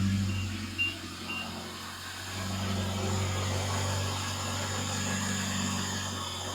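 A Nissan Altima's power steering pump cavitating after a reservoir replacement, giving a steady hiss and whine over the low, continuous drone of the idling engine, close and fairly quiet throughout.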